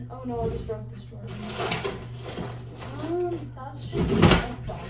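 A wooden drawer being pulled open and pushed shut in a home, giving several scraping rattles and knocks, with a person talking over the sounds close by.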